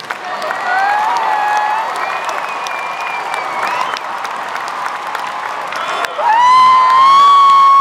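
Comic con panel audience in London applauding loudly, with cheering and high whoops rising over the clapping, swelling again near the end.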